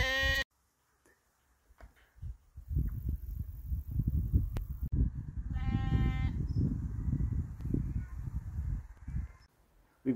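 Lambs bleat on a farm, a sharp cry right at the start and another clear wavering bleat midway, over scuffling and rustling background noise nearby.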